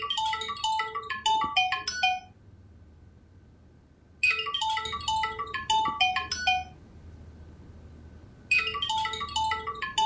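A mobile phone ringtone plays a bright electronic melody in three repeating bursts separated by short pauses, clear and fairly loud indoors over faint background hum, with no talking.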